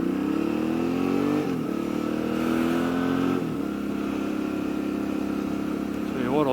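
A Suzuki V-Strom 650 motorcycle riding steadily, its engine droning close and loud, with a couple of gear shifts audible as brief dips and changes in engine pitch.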